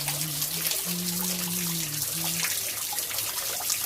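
Water runs steadily into a small backyard tilapia fish pond under test, a continuous trickling wash over a low, steady hum, with no voices.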